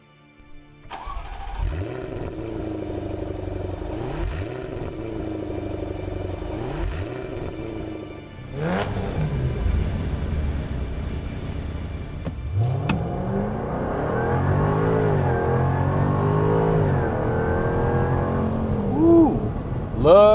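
A Jaguar F-Type R Roadster engine fires up and is blipped several times in sharp, growling revs, then settles into a loud, rumbling sustained rev with crackles, heard up close.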